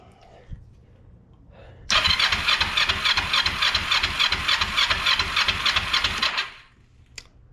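A Kawasaki Ninja 500R engine cranks over on the starter with no fuel hooked up, a steady rapid chugging whir lasting about four and a half seconds, loud and close, then stopping abruptly.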